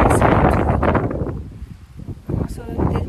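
Strong gusts of wind at Hebil Bay in Bodrum buffet the microphone with a heavy, rumbling roar that dips briefly midway before surging again.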